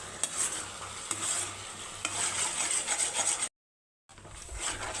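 A spoon scrapes and stirs banana payasam in a non-nonstick pan with steady rasping strokes and soft sizzling, cutting out briefly to silence before the scraping resumes.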